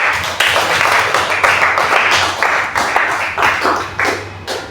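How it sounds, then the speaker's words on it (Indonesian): A class in a Catholic religious education lesson in Merauke bursts into loud, close hand clapping, a steady roll of applause pulsing in uneven waves with several sharp surges. "Tepuk tangan untuk kalian semua."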